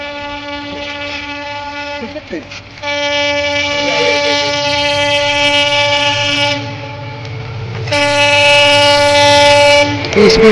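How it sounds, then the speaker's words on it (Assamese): A train rumbles loud and close across a railway bridge over a river, its horn blaring in long sustained blasts over the rolling clatter of wheels on the rails. "মই দলংখন চাই থাকোঁতে মানে কি বুলি কয়, ট্ৰেইন আহি গ'ল।"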